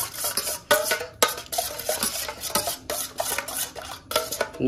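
Spatula scraping and stirring turmeric and Kashmiri chilli powder in a cooking pan for an egg and soyabean dish, with repeated close scrapes and clinks in an irregular rhythm.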